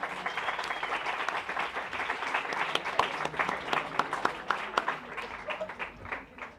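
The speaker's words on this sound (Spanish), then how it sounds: "Un aplauso también, por favor." An audience at an academic event on indigenous community rights applauds a visiting professor, a dense round of clapping with distinct sharp claps standing out, thinning and fading toward the end.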